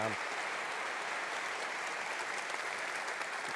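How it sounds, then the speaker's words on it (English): An audience at a live debate on whether science has buried God applauds, a dense, even wash of many hands clapping that holds steady at a moderate level for the whole stretch, with no voices over it. "I'd really like to give them a round of applause because they've done a great job."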